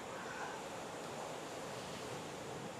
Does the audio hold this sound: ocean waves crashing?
yes